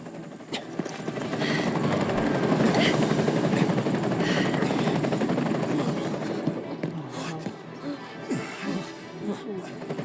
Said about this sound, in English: We got Shinra planes, copters flying overhead, military grade